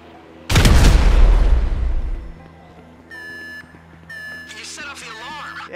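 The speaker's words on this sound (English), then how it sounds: "An explosion will tend to do that." A single loud explosion bursts in a GTA V heist mission inside a federal building, a heavy booming blast that rumbles and decays over about two seconds, followed by electronic beeps and a voice.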